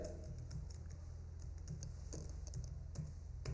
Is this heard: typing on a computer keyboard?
yes